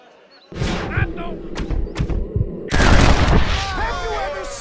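In Red Dead Redemption, gunshots fire at a tossed hat: sharp, booming shots in quick succession, with a character's voice talking over and between them.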